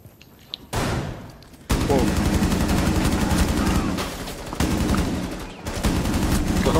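Rapid automatic gunfire rattles in sustained bursts during a Destiny match, loud and dense, with brief pauses between volleys.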